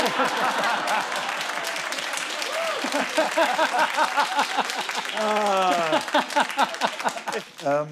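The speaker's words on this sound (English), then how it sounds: "Come on, clap for that" A studio audience at a television comedy panel show claps steadily, with the applause continuing under someone talking loudly over it before fading near the end.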